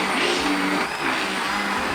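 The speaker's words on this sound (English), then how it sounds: "This is my immersion blender." Affordable immersion blender whirring continuously in a kitchen, loud and close with a steady motor drone and slight dips as it blends, no talking.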